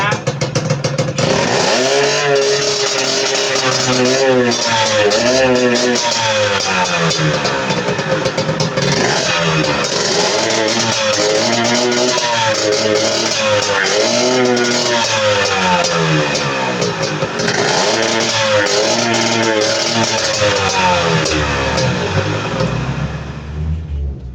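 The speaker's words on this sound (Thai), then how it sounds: "เดี๋ยวจะลองเร่งเครื่องดูนะ" A Honda JR120 motorcycle converted to a motocross bike revs loudly up and down in repeated bursts, close by, with voices partly buried under the engine noise.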